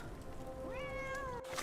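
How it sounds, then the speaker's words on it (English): A cat in a video game gives one drawn-out meow that rises and falls, fairly faint against steady game background ambience, with no talking. "Yeah, kitty cat, I hear you."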